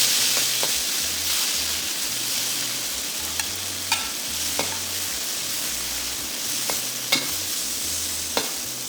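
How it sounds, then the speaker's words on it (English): Shrimp frying in hot oil in a pan, a continuous bright sizzle with occasional pops and crackles, close and steady throughout. "when the oil is hot, put in your shrimps"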